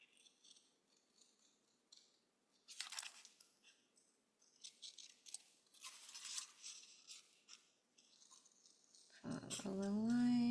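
Scissors snip through paper while cutting out an apple shape, with short rustling cuts coming in scattered bursts in a quiet room before a voice speaks at the end.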